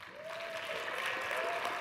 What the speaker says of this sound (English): Now we can really clap.